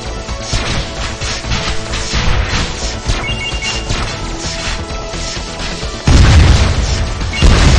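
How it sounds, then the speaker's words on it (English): Explosion strike attack in the mobile video game WinWing, a loud continuous barrage of crashing, booming blasts layered over game music, swelling into a heavier burst near the end. "Explosion strike."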